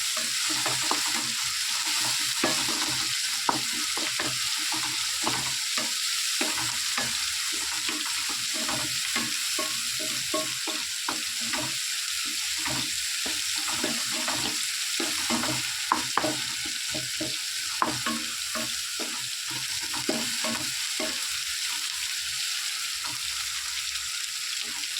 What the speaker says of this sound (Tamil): வெங்காயத்தை கொட்டி நல்லா வதங்கிட்டு இருக்குங்க